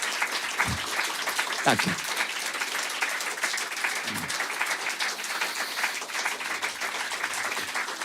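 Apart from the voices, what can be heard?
audience applause at a live concert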